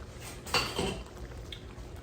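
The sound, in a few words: metal bean masher on beans in cast iron skillet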